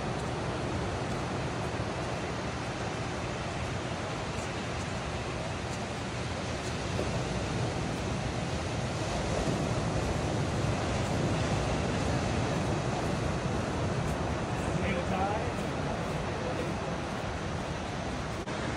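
Ocean waves roll onto the beach at Mission Beach, San Diego, making a steady, loud wash of surf that fills the whole stretch without pause, with some wind rumble and no voices.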